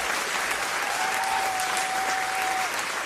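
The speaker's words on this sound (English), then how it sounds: "a big round of applause to the Soca Warriors" Applause for the Soca Warriors, Trinidad and Tobago's football team, a steady wash of clapping at an even level throughout, with a thin sustained tone running through the middle.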